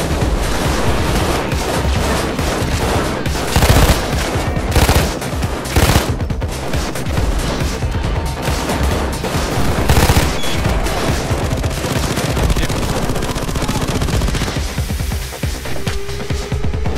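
Automated sentry gun in Payday 2 firing in rapid, dense bursts, a loud continuous rattle of gunfire mixed with louder shot volleys across the whole stretch, with no talk over it.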